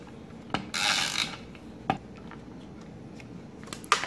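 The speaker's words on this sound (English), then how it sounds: "the bottle cap flattening with her die cutting machine" A die cutting machine flattens a bottle cap with a loud grinding, rasping roll and then a few sharp clicks and knocks of the mechanism, close up.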